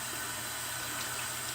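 Tap water runs steadily from a faucet to wet a synthetic shaving brush, a continuous soft hiss of flowing water close by with no talk over it.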